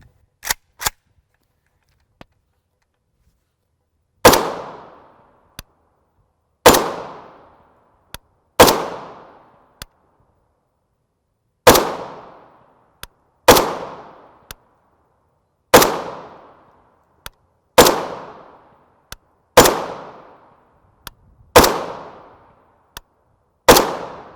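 An AK rifle fires 7.62x39mm PPU 123-grain brass-case FMJ rounds, with about ten loud, sharp reports at irregular intervals, each ringing off briefly, interspersed with small clicks and handling noises.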